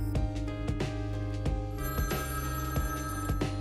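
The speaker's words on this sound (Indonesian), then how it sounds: "telepon kembali berdering" A public pay phone bell rings repeatedly in steady bursts, fairly loud and close, with a faint background hum and no talking, from the film Phone Booth (2002).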